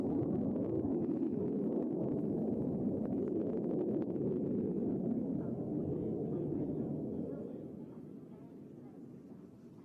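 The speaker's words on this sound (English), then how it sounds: "two Royal Canadian Air Force CF-18 Hornet fighter jets conducting a flyby over Whistler" Two Royal Canadian Air Force CF-18 Hornet fighter jets make a flyby over Whistler, a loud, steady low roar that holds for several seconds and then fades as they pass into the distance.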